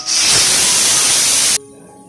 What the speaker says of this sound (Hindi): अब मैं प्रेशर कुकर को खोलती हूँ